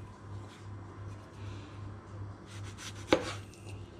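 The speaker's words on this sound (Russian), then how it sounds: "Беру помидорку напополам" A knife slices a tomato in half in a home kitchen: one crisp, close cut lands against a steady low electrical hum, with no talking.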